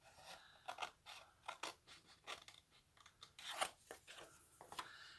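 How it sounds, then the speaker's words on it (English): Scissors snipping the edge of a paper envelope in a steady series of close, crisp cuts, several in a row with brief pauses, quiet and without talk. "So now we're just going to trim this off."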